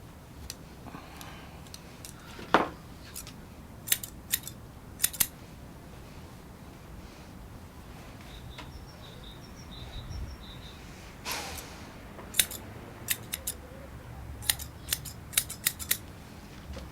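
Grooming scissors trimming the beard edges of a Cairn terrier, a series of sharp, close snips scattered irregularly, some in quick pairs, over soft background hiss and occasional dog breathing.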